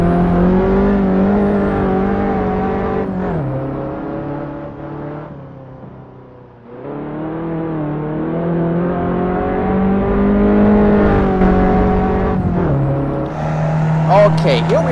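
A front-wheel-drive race car laps the Knutstorp circuit in a racing video game, its engine droning steadily with rising and falling pitch through gear changes, loud and continuous, a brief dip midway, with a voice speaking over it.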